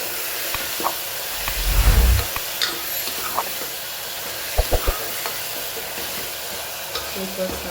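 A spoon stirs turmeric and salt into a pigeon-pea (tuver) vegetable curry in a pan, with soft scrapes and knocks over a faint background sizzle and one louder thump early on.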